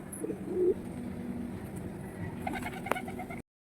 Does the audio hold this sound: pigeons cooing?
yes